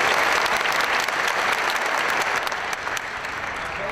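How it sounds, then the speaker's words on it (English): Big round of applause from company staff at an aviation business event, dense, loud and continuous across the moment, easing slightly toward the end. "Let's give a big round of applause."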